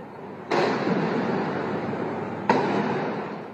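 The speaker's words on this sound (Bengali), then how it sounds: "রাতের অন্ধকারে একের পর এক গুলির শব্দ।" Two loud gunshots ring out at night on a city street, each a sharp crack followed by a long rolling echo that fills the gap between them.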